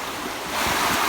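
A clear river in December gives off steady broadband rushing water, close and continuous, swelling a little louder partway through with no voices.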